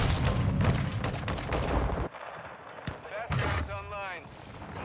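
Dense rapid gunfire and booming blasts fill a video game battle for a couple of seconds, then thin out into scattered shots while a voice speaks over radio-like chatter.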